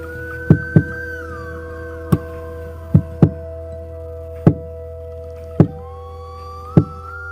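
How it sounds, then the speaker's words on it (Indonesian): Sharp knocks on a window, single and paired raps spaced irregularly over a steady low hum and faint wavering tones. "samar-samar dari jendela terdengar suara orang mengetuk-ngetuk"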